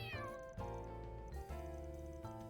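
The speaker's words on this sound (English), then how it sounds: "Isn't this little gray cat the same one from Old Town? Kinda sounds like she's got the blues." A little gray cat in the video game Trails Through Daybreak 2 gives a series of mournful, drawn-out meows, clear and close over a soft melodic game music background.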